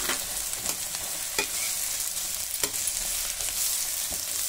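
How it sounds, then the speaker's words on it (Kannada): Peas, carrot and onion frying in oil in a pan, a steady close sizzle punctuated by several sharp scraping stirs, with no talking. "ಬಟಾಣಿನ ಹಾಕ್ಕೊಂಡು 1 ನಿಮಿಷ ಚೆನ್ನಾಗಿ ಎಣ್ಣೆಯಲ್ಲಿ ಫ್ರೈ ಆಗಲಿ."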